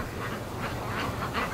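A few ducks quack in short, repeated bursts, about four calls in quick succession over a steady background hiss.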